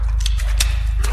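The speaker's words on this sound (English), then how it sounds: "I heard his clippy click clickety clack on the floor" Hard clacking footsteps of an enemy on a floor in a body-cam horror game, a few distinct sharp clicks spaced unevenly over a constant low hum.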